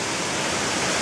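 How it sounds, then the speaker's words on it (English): The Hidden Waterfall in Costa Rica pours in a steady, full, close rushing roar of falling water, with no voices. "This one is called the Hidden Waterfall."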